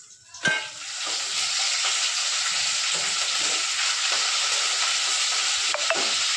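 A sharp crackle as curry leaves hit hot oil with garlic, then a steady loud sizzle continues with light stirring scrapes.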